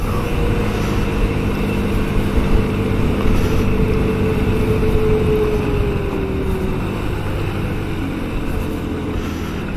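A Honda Shadow 125 custom motorcycle with a carburetor runs smoothly, its engine giving a steady, unbroken low hum at an even level throughout.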